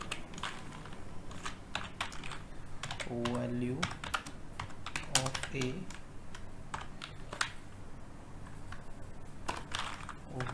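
Keys clatter on a computer keyboard as MATLAB plotting commands are typed, a steady run of light, quick clicks continuing under a man's spoken explanation.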